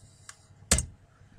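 Two isolated clacks from a computer keyboard, a faint tap followed by a louder, crisp keystroke, close up in a quiet room.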